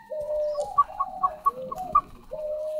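Young ostrich chick calling in a series of short honking, goose-like notes, a few sustained tones broken by quick squeaky peeps, close and clear with no talk.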